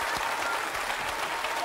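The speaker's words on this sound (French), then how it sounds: "Je vous demande d'applaudir Yvette qui va revenir la semaine prochaine." Sustained applause from a French television game-show studio audience, dense and steady throughout, with some crowd noise mixed in.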